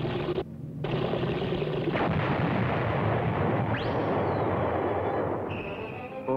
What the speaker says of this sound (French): Encore une explosion qui n'était pas prévue.